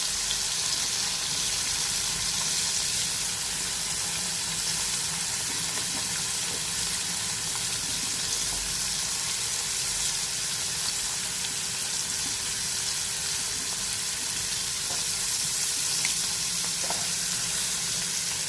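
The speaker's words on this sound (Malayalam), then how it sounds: "കുറച്ച് ചെമ്മീനുണ്ട്, പൊരിക്കാണ്" Prawns frying in a pan give a continuous dense sizzle, loud and close, with faint clinks now and then and no talking.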